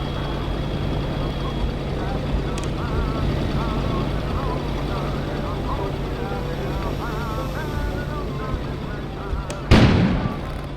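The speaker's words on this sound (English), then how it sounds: "An explosion suddenly occurred outside." An outdoor explosion in the game Kona, a sudden loud burst near the end with a rumbling tail, following a long stretch of murmuring ambience and low rumble.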